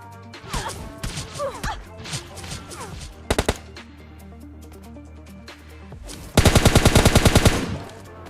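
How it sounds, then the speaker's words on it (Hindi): Gunfire in the battle royale game PUBG: scattered single shots and a short burst, then a loud rapid automatic volley near the end, with impact and smash sounds mixed in. "अब बंदा पता नहीं कौन सी गन चला रहा था"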